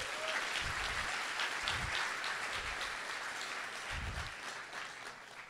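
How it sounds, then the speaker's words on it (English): Audience applause at an Ethereum developer meetup in San Francisco, a steady wash of many hands clapping from a crowd, sustained and even throughout with no talk over it. "Can we get another round of applause for consensus?"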